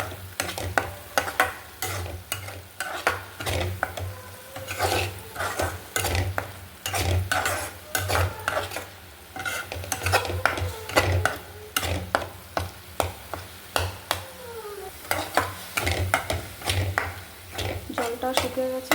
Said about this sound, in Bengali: সামান্য একটু লঙ্কা গুঁড়ো, দিয়ে ভালো করে মিশিয়ে নেব।